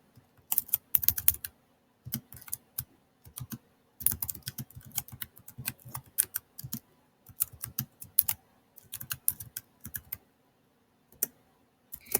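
Typing on a computer keyboard while entering a book title into a text box, close, crisp key clicks in quick irregular bursts separated by short pauses.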